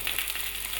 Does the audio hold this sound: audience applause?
no